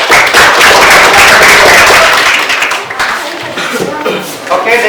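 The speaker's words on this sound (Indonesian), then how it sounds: "Sekali lagi beri aplaus dulu untuk kelompok satu." A classroom of students applauding a presenting group, loud dense clapping that swells at once and holds for several seconds before thinning out, with a few voices mixed in.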